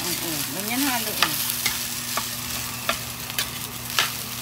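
Fried rice (sinangag) stirred in a pan, with occasional scraping clicks of the utensil over a low steady sizzle and a faint tonal hum.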